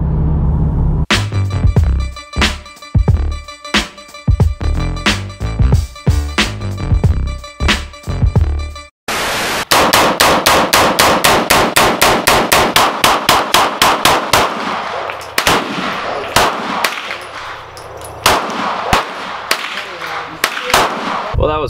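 Gunshots at a busy outdoor shooting range, a dense run of sharp, loud reports in quick irregular succession with bursts of rapid fire, continuing for over twenty seconds.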